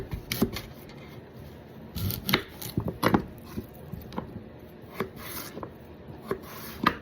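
A very sharp knife slicing through raw sweet potato on a cutting board, a series of crisp, irregular cuts and taps, close and fairly quiet with no talk.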